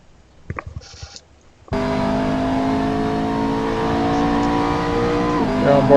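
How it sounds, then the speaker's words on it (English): A McLaren GT race car at Road America with a throaty turbo engine: after brief clicks and a short noise, the engine roars in loud and close, holding a sustained high-revving drone that rises toward the end. "Nice throaty turbo sound."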